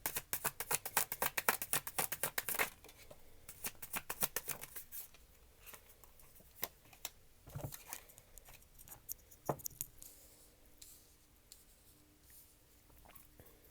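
Tarot cards are shuffled by hand, with a quick flurry of crisp riffling and flicking up close at first, then slowing to scattered soft card slaps and light handling.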